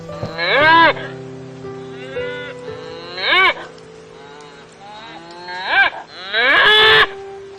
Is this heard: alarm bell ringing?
no